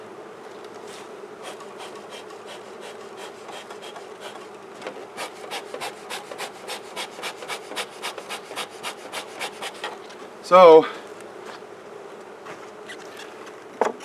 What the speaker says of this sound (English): There's way more bees in there